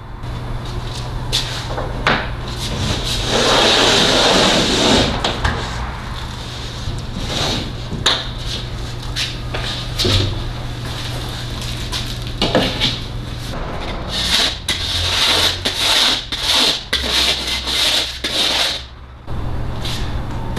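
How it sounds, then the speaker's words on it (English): A hand planer shaves excess wood from a board, giving repeated rasping, scraping strokes, loud and close, with short pauses between passes. "just gonna use my planer here and shave off that excess"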